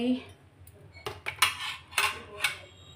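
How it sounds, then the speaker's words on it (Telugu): A knife on a cutting board while chopping brinjal, green chillies and tomato for a brinjal tomato gravy, several sharp close clicks and taps in an irregular rhythm against quiet room background. "ఇక్కడైతే దుంప వంకాయ పచ్చిమిరపకాయ టమాటీ కట్ చేస్తా"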